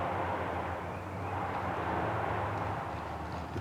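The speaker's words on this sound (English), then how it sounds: "The tree chipper." Tree chipper running steadily in the distance after a tornado brought trees down, a continuous broadband mechanical roar that holds constant throughout, faint and with no talk over it.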